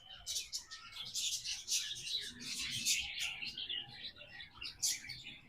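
Small birds in a park mini zoo at Hathi Park, Prayagraj, chirp in quick, faint, scattered bursts from some distance, with soft background noise.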